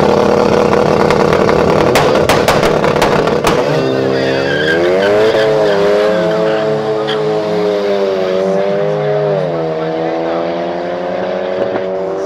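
A Mercedes C63 launches and accelerates hard in a street drag race, engine note climbing through gears in loud sweeping rises after a rough idle, with clicks and spectators' voices around it.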